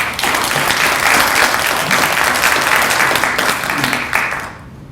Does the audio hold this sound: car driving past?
no